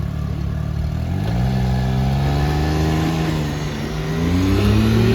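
An Indian FTR motorcycle engine idles and revs close by on a road trip in the south of France, its pitch rising and falling in a steady, loud drone that climbs toward the end.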